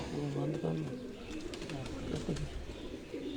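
Pigeons coo in low, throaty bursts nearby on a rooftop while people talk over them.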